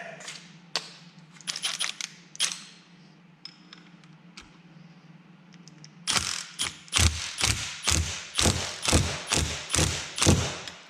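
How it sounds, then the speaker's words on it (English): A pneumatic impact gun runs a fork bolt on a Kawasaki GPZ Turbo motorcycle, starting with scattered mechanical clicks over a low hum, then a loud series of rapid rattling hammer bursts in a steady rhythm. "an impact gun takes care of that"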